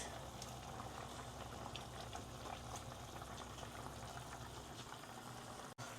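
Soup simmers in a pot on the stove, a steady soft bubbling and hiss that continues unbroken with no talking, ending with a small knock.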